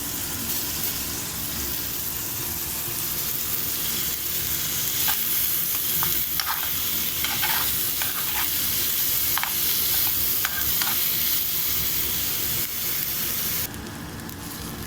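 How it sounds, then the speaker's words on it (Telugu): Onions frying in a little oil, headed for a paneer gravy: a continuous close sizzle with repeated spatula scrapes and stirring clicks through the middle, steady and unaccompanied by speech. "కొంచెం హాఫ్ స్పూన్ ఆయిల్ వేసుకుందాము. ఫ్రై చేయడానికి అండి."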